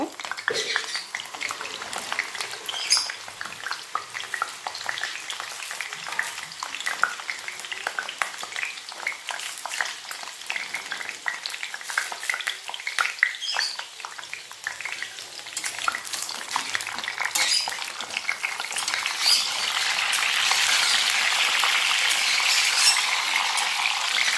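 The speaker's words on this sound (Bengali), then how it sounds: "কড়াইতে তেল দিয়ে দিচ্ছি পটলগুলো ভেজে নেব" Pointed gourd (potol) pieces fry in hot oil in a wok, a steady crackling sizzle with occasional utensil clinks and stirring, growing louder and denser toward the end.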